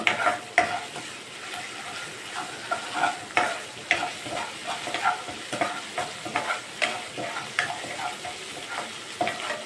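Ingredients fry and sizzle in a pan while aloo rice is being cooked, with steady sizzling broken by repeated short scrapes and stirs at irregular intervals, close and moderately loud, with no talking.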